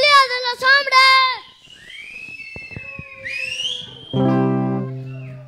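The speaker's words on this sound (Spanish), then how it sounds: "¡Al chiflido de los hombres!" Whistling from men in a crowd at a live rock show, sharp rising and falling whistles mixed with crowd noise and shouting, followed by a sustained musical tone.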